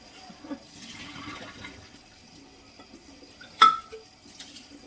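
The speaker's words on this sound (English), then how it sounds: "get these dishes washed" Dishes being washed in a kitchen sink: a soft wash of water and handling noise, then one sharp, loud clink of crockery near the end.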